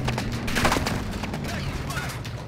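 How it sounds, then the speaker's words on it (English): Gunfire in the battle royale video game Call of Duty Warzone, a dense burst of shots and bangs running through the whole moment, loud and close, with a voice talking over it. "Who's shooting me?"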